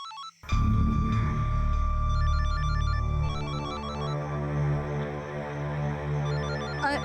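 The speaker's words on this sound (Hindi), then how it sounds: "किसका फोन है?" A mobile phone ringtone plays a repeating electronic melody, loud and close, starting abruptly after a moment of quiet and continuing steadily to the end in a domestic scene.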